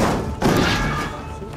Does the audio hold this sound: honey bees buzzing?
no